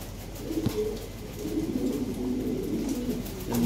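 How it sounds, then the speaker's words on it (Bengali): Blue checker fancy pigeons cooing close by, soft low throaty coos repeating in a loose rhythm over a quiet room background. "এইখানে ব্লু চেকার আছে একটা জোড়া, এটা হাই বাজেটের কবুতর।"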